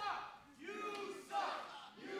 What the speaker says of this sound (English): Crowd's getting the word in on what they think about Alex Reiman.